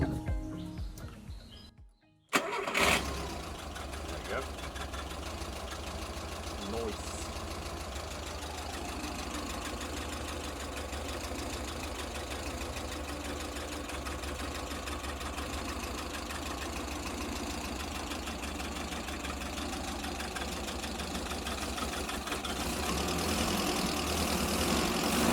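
A Pinzgauer engine cranks briefly after a short pause, then settles into a steady, continuous idle that runs on for over twenty seconds, close and fairly loud with faint background sounds.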